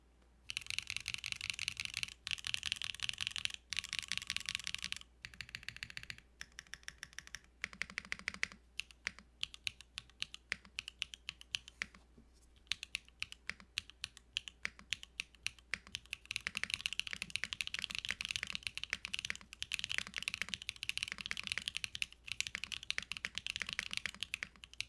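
Rapid typing on a mechanical keyboard fitted with Gateron switches, dense clacking keystrokes in bursts with brief pauses, close and steady, with no voices.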